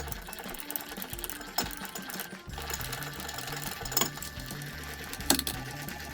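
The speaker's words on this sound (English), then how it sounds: "next we're going to use the jack here to jack up the back end" Mechanical jack lifting the back end of a hiker camping trailer to raise the wheel off the ground, heard as a steady close repetitive clatter with a few sharper clicks.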